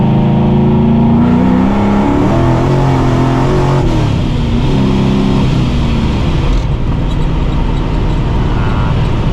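A 600 hp New Edge Mustang GT makes a hard pull with wheelspin, its loud V8 roaring and climbing in pitch, then easing off and surging again, heard from inside the car.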